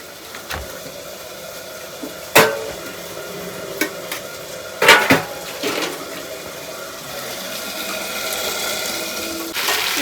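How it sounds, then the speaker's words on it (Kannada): A grandmother handles metal cooking pots in a home kitchen while food cooks, giving several sharp clanks and knocks spread across the scene over a steady background of frying and running water. "ಇಲ್ಲಿ ನಮ್ಮ ಅಜ್ಜಿ ಪಾತ್ರೆ ತೊಗೊಳ್ತಾ ಇದ್ದಾರೆ"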